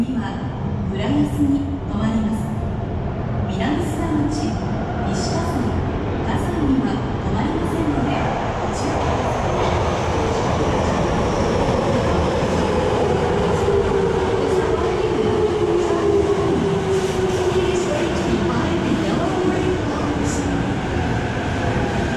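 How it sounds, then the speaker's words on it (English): A train rumbles steadily into a station in Japan, with a long squealing tone as it rolls in and slows, plus scattered clicks and clatter; background voices murmur faintly. "I love watching trains come in."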